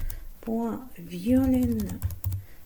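Quick clicking keystrokes on a computer keyboard while Python code is typed, the clatter running beneath someone speaking close by.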